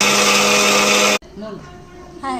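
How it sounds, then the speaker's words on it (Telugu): A mixer grinder powders popcorn together with grated jaggery, whirring loud and steady for about a second before cutting off abruptly; faint talk follows in the quiet, and a voice starts as the sound resumes. "తురిమిన బెల్లం అయితే మనం ఈ పౌడర్లో వేసుకుందాం అయితే మళ్ళీ మనం పౌడర్ చేసుకోవాలి"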